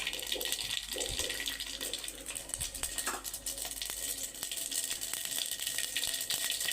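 Cumin and mustard seeds splutter in hot oil in a pan, with rapid, scattered crackles and pops over a continuous hiss.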